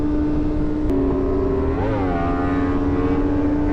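Sport motorcycles, among them an S1000RR and a Fireblade, rev together during a group ride in America. The loud, close engine drone rises in pitch mid-clip as they accelerate, with no voices.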